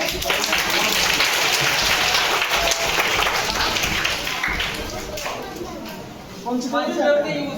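Loud, sustained applause and clapping from a crowd of children at a school birthday celebration, continuous for several seconds before tapering off, followed by a brief burst of voices.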